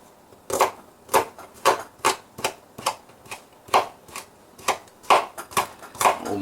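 A knife chops scallions on a cutting board in a home kitchen, a run of about a dozen crisp, woody taps in an uneven rhythm, close and fairly loud.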